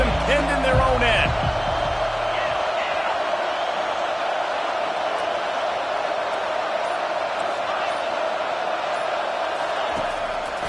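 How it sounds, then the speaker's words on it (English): Steady broad crowd roar filling a College Football 25 stadium during a Utah vs K-State game, loud and sustained throughout, with a few sharp impacts early and a voice talking over it. "The roar of the crowd trying to fuel this defense to keep them pinned in their own end."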